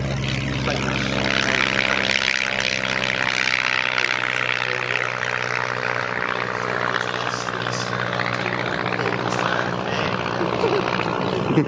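A propeller plane at the Shuttleworth airshow drones loudly and steadily, its engine note shifting as it passes, with faint voices in the background.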